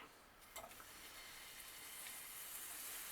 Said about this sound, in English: A little sizzle, yeah.